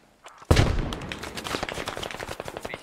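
Machine gun fire in the video game Global Escalation Mod: a heavy opening blast, then a dense run of rapid, sharp shots that keep cracking at close range with no talk over them.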